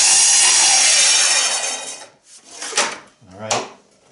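A saw cuts red maple stock that is clamped down, making a loud, continuous rasping cut for about two seconds. It ends in a few shorter scraping strokes and clunks as the work is handled.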